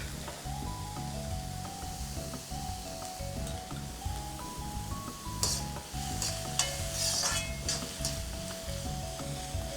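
Mixed vegetables stir-fry over a high flame for millet fried rice, with a continuous loud sizzle, repeated stirring and tossing, and the occasional clink of a pan, all without talk.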